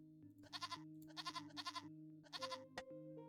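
Goats in the video game Equilinox bleat in several short wavering bursts, quiet and spaced over a soft steady musical backdrop.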